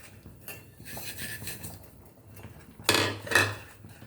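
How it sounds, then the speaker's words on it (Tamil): A metal spoon scrapes and clinks against a pan as semolina is stirred into boiling coconut milk for mango kesari, with steady scraping followed by two louder, sharper bursts of stirring near the end. "கொஞ்சம் கொஞ்சமாக போட்டு கிண்டிக்கிட்டே இருக்கணும்."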